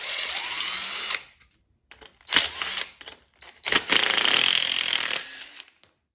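A power tool spins off the 10mm head bolts holding the secondary air injection pump snorkels on a 2007-2013 Toyota Tundra, in three loud, close whirring bursts separated by brief silences.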